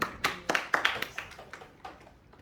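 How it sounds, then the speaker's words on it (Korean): Sparse, scattered handclaps from a small youth worship audience, a few distinct claps that trail off and grow quieter over about two seconds. "우리 예지한테 박수 한번 쳐주세요."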